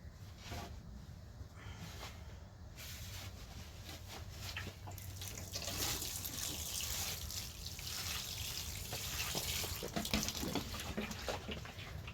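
Water runs steadily from a tap, splashing into a sink and growing slightly louder partway through, with no talking.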